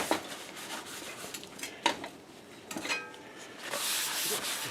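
A cloth wiping over a hot seasoned cast iron pan, with soft scattered rubbing and scraping strokes close up and a brief hiss toward the end.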